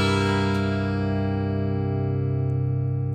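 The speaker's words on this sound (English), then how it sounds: "this is that dominant chord that is so common in jazz and blues and has a tense sound that wants to resolve" A guitar sustains a tense dominant seventh chord with a steady, ringing tone that holds evenly for a few seconds, with no talking.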